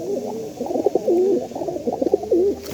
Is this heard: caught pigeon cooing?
yes